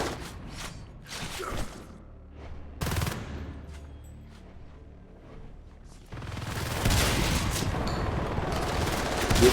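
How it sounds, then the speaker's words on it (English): Heavy machine guns and shotguns firing in a video game battle as marines push on a gate, with bursts of rapid gunfire and sharp blasts early on, then a dense, loud roar of sustained shooting building toward the end. "Marines are pushing in on foot. This time with HMGs and shotguns."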